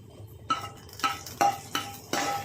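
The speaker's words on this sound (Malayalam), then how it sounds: "കടുക് തളിച്ചത് നമ്മൾ ഇതിനകത്തേക്ക് ഒഴിച്ചു കൊടുക്കുക" Mustard seed tempering poured into a pot of beef mappas curry and stirred, giving a series of short scraping, clinking spoon-against-pot strokes with a faint sizzle, close by and spaced about half a second apart.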